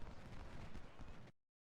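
A single cannon shot in the Civil War strategy game Ultimate General: Civil War, a heavy booming blast that rumbles on briefly and then cuts off abruptly into silence.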